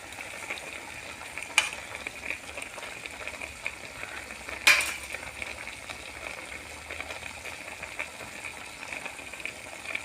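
A steady, low hiss of tomatoes frying with beef karahi in a covered pan, Balochistan style, broken by two brief clicks.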